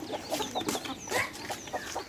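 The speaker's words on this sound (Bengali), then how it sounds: "মুরগি খুব এনজয় করে খাচ্ছে।" Free-range country chickens feeding at a poultry farm, clucking in quick repeated bursts, close and fairly clear, with several birds overlapping and no voices.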